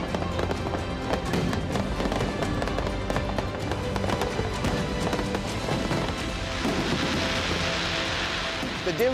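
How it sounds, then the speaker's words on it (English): Halloween fireworks by the river near the Peace Bridge in Derry, a continuous dense crackle and rumble of many distant bursts layered over crowd noise. "A spectacular fireworks display down by the river near the Peace Bridge"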